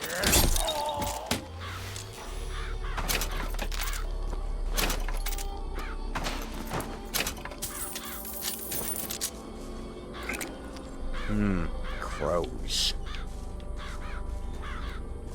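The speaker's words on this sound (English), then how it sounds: "a murder of crows. To stun and damage your enemies." Crows cawing in a Murder of Crows attack in Bioshock Infinite, with harsh caws repeating among game clatter, impacts and glassy crashes over a low rumble.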